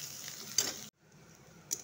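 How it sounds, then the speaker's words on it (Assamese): Finely chopped large onion sizzles in hot oil in a pan, a steady hiss broken by a short gap and brief bursts as the pieces are stirred. "পিঁয়াজ এটা, ডাঙৰ চাইজৰ এটা পিঁয়াজ লৈছিলোঁ, সৰু সৰুকৈ কাটি লৈছোঁ। এইখিনি অকণমান টাইম আমি ভাজি ল'ম।"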